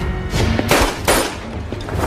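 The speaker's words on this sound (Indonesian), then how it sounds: "Suara tembakan tersebut membuat seluruh tentara Belanda bergegas menuju sumber suara." Gunshots in a war film about Indonesian fighters against Dutch soldiers, a few sharp, loud cracks in quick succession over a low background rumble.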